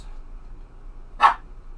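A puppy lets out a single short, sharp bark partway through, close and fairly loud against an otherwise quiet background.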